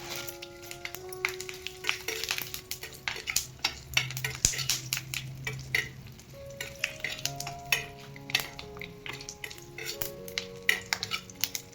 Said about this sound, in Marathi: जायपत्री तळून घेऊ.